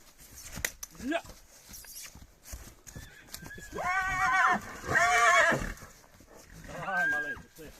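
A young Percheron stallion neighs in several loud, quavering whinnies close by, one after another, with hoof clops and farmyard sounds around them.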